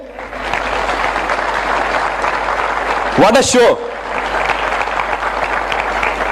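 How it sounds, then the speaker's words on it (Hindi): Loud, sustained crowd applause fills the hall at an Amway business event, with a voice briefly exclaiming over it midway. "जोरदार तालियां हो सकती है सब लोगों के लिए"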